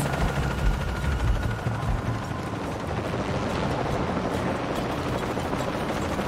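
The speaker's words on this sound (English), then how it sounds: "More helicopters." Helicopters in the action game Shadow of the Tomb Raider fill the scene with a heavy, steady rotor roar and rumble, loud and unbroken, with no speech.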